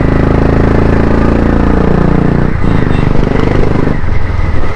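A motorcycle fitted with a replacement silencer runs loud and close at a deep, throbbing idle, with brief throttle blips around the middle and near the end.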